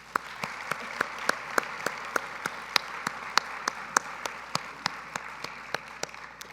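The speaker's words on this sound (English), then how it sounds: "Please join me in a round of applause for our presenting sponsor, BRP, and all of our other sponsors." Audience at the WABF 2023 opening ceremony forum applauding the sponsors, a steady run of sharp individual claps over a softer wash of clapping, moderately distant and continuous for several seconds with no talking.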